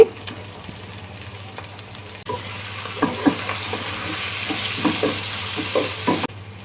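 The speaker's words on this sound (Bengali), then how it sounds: "চিংড়ি মাছটা তেল দিয়ে দিলাম দিয়ে দিলাম পেঁয়াজ কুচি" Shrimp and chopped onion frying in oil: a soft background hiss jumps to a fuller sizzle after about two seconds, with scattered stirring scrapes and clicks, over a low steady hum.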